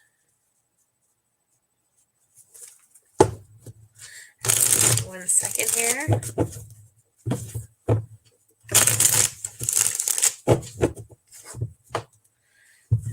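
A deck of cards is shuffled by hand during a live session: repeated riffling and crisp flicking bursts come in several close, loud rounds, with a person speaking briefly between them.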